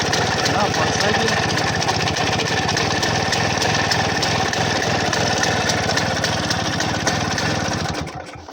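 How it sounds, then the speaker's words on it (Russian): A Minsk motorcycle fitted with an air-cooled Muravey engine runs steadily and loudly nearby, a dense, buzzing mechanical clatter that holds even for about eight seconds before cutting off. "Мотор с воздушным охлаждением."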